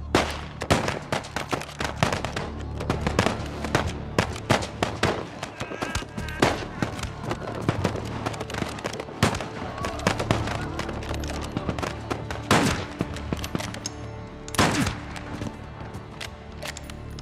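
Rapid rifle volleys in a war drama battle scene, dense overlapping loud gunshots crackling continuously for the whole stretch with shouted voices in the mix.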